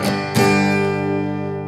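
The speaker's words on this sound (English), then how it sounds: "Okay, so this is a faster strumming." An acoustic guitar chord is strummed twice in quick succession, loud and close, then left to ring out and slowly decay.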